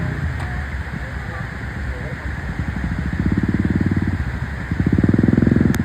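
A motorcycle engine drones steadily throughout, its throbbing growing louder and more pulsing toward the end as the bike revs up.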